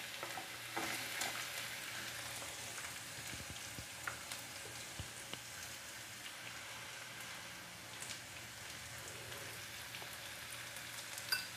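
Onions fry in a pan for shrimp curry, a soft, even sizzle crackling like light rain, with scattered utensil taps and stirring; no talking.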